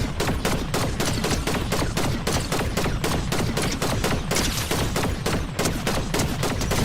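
Rapid, continuous gunfire from the enhanced spy rifle in Fortnite, dense repeated shots in a steady loud stream with barely any gap between them.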